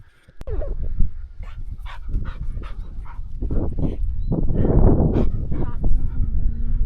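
A spaniel whines and yips close by on a fell walk, with breathy whimpers rising and falling and a voice speaking near it.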